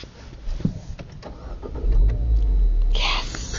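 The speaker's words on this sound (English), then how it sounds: "you gotta compress the clutch to start it." A Mini car's engine starting after a few faint cabin clicks and rustles, catching with a low rumble that settles into a steady idle, heard from inside the car.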